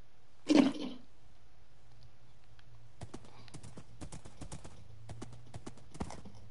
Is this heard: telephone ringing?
no